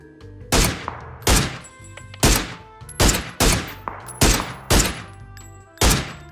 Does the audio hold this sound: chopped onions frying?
no